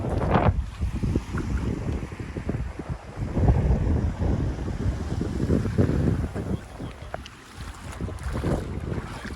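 A boat motors along the Black River in Jamaica. Its steady engine rumble and water wash are heavily buffeted by wind noise on the microphone, and the sound stays continuous and loud throughout.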